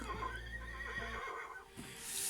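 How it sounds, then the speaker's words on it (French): A toy horse gives off a synthetic neigh and whinny, close and fairly loud, with a brief clip-clop-like patter and a bright electronic hiss near the end. "il fait juste des bruits de cheval"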